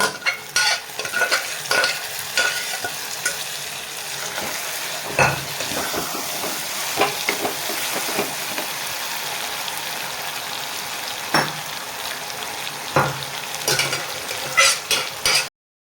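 Anchovy dry fish thokku with tomato sautéing in a pan, a dense crackling sizzle throughout, punctuated by frequent scraping and tapping strokes of a spatula, loud and close.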